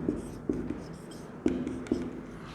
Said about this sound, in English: Okay, here I write it down